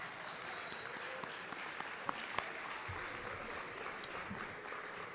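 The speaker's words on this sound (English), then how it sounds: "Give yourselves another round of applause." Audience applause fills a room at a college athletics awards dinner, a dense, steady wash of clapping with a few sharper individual claps standing out, heard from some distance and sustained throughout.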